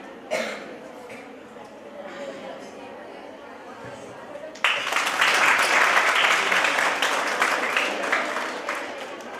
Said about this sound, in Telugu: ఎందుకు క్లాప్?